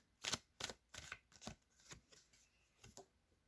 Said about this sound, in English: back to the Journey of Love cards, shuffling for October